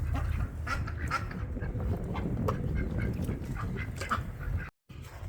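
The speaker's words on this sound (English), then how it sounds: "these crazy ducks still getting in the water" Ducks in a barn water stock tank on a cold winter day give steady, close, busy quacking that runs for about five seconds, with a brief gap near the end.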